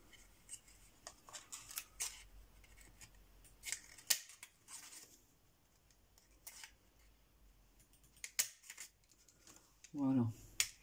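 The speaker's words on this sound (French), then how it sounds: "Je vais couper 2 petits ronds comme ceci." Scissors snip small circles out of paper in repeated short cuts, close and crisp, with pauses and paper rustling between them and a voice speaking briefly near the end.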